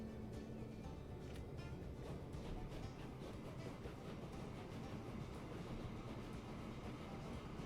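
A train runs steadily in the Transport Fever 2 video game, a continuous faint rumble with light clickety-clack, no speech over it.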